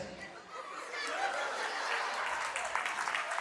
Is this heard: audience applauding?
yes